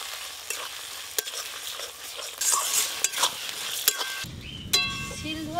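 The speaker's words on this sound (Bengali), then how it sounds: "আর একটু ভালো করে কষবো মশলা থেকে তেল ছাড়া শুরু হয়ে গেছে" Spice paste (masala) fries in oil in a pan while being stirred, a continuous close sizzle broken by scraping strokes and light clinks of a utensil, and a sharper hiss toward the end, with no talking.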